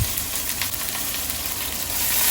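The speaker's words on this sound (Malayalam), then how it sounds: "എണ്ണ ചൂടായി വരുമ്പം കടുക് പൊട്ടിക്കുക. കടുക് പൊട്ടി വരുമ്പം കറിവേപ്പില ഇടുക." Mustard seeds and curry leaves sizzle and crackle in hot oil in a pan for a Kerala-style onion theeyal, a steady close hiss running throughout without any talk.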